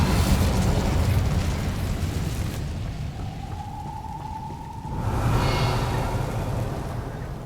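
Incendio fire spell cast in the video game Hogwarts Legacy: a loud, roaring burst of flame that rumbles, fades into a thin tonal whoosh, then flares up again in a second fiery rush, with no talking.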